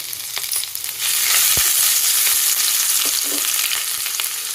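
Green chilies, ginger and garlic fry in a pan with a steady bright sizzle throughout, broken by a few soft stirring clinks and scrapes; no voices are present.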